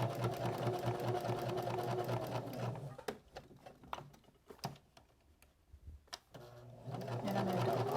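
A sewing machine top stitching a small fabric apron recipe holder runs in fast, even bursts of needle chatter, pauses for several seconds with a few clicks and adjustments, then starts stitching again.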